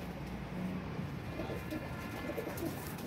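Several pigeons coo softly amid steady background noise, their low murmuring calls faint and overlapping through a flock kept in a loft.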